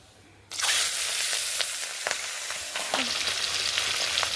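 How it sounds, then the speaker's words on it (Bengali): Pabda fish coated in turmeric dropped piece by piece into hot oil, erupting into a loud sudden sizzle that settles into steady crackling frying with small pops. "তেলের মধ্যে মাছগুলো দিয়ে দিয়েছি"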